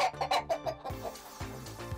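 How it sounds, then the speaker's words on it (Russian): Backyard chickens at a pensioner's smallholding in Crimea: a rooster and hens cluck in quick, close, repeated bursts, loud and busy with no talking. "Петушок будет приглашать курочек."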